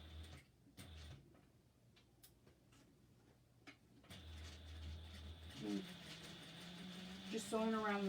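Home sewing machine stitching fabric along a slight curve for a dress sew-along, a steady mechanical whir starting partway through after quieter ticking and handling, with a voice talking over it.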